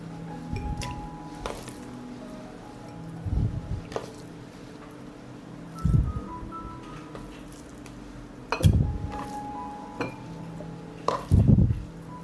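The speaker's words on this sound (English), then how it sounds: "I fill the jars halfway with meat" Meat packed into glass jars, with several soft squelching thumps and clinks at irregular intervals over a quiet room hum.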